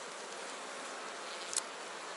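Honey bees buzz at an open beehive in an apiary in late July: a dense, steady drone that fills the whole stretch, with a small click near the end.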